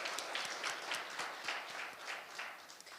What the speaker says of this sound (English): Can we please get a round of applause for that?